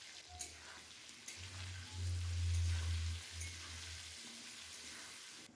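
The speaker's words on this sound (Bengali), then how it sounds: "লাল লাল করে ভেজে রেখে দেব" Potatoes seasoned with salt and turmeric fry in oil in a pan, a steady broadband sizzle with a low rumble that swells in the middle, close by with no talking.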